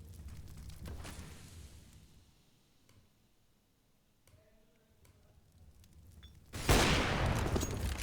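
Gunfire in the video game CS:GO on the Cobblestone map, with muffled bursts and clicks early on, then a quiet stretch, then a sudden loud rattle of shots near the end.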